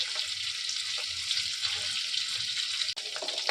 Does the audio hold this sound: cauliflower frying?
yes